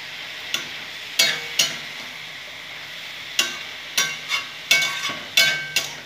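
Mustard greens are stirred in a hot pan, a spatula tapping the metal in sharp, uneven clacks over a soft steady sizzle.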